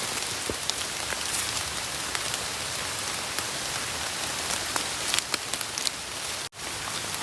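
Rain falls steadily through a forest in Thailand, a dense, even patter of drops on leaves and surfaces with scattered sharper nearby drips, heard alone without talk until a sudden cut near the end.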